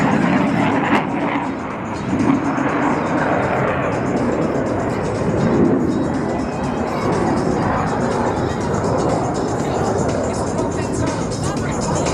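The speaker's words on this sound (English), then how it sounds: "Lieutenant Commander Brett will roll their aircraft to 90 degrees angle of bank and push forward on the stick as they perform the opposing knife edge pass" Jet aircraft roaring through an opposing knife edge pass at the New Orleans airshow, a continuous loud broadband rush filling the whole span, with an announcer's voice and crowd murmur mixed underneath.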